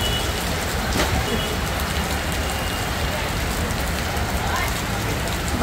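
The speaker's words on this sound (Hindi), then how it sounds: "मुंबई की बेवक्त की बारिश अचानक ही शुरू हो गई थी" Sudden heavy rain falls on a Mumbai street, a steady, dense wash of drops hitting surfaces, loud and continuous throughout with no pause.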